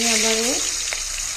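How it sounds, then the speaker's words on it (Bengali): Sarputi fish fry in hot oil with a loud, steady, close sizzle that hisses throughout, while a short tonal sound rises briefly at the start. "গরম তেলে বাকি মাছগুলো ভেজে নেব"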